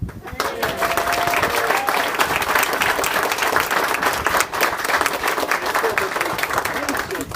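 Wedding guests applaud in a sustained, loud round of clapping lasting several seconds, dense and even, with some voices and cheers mixed in.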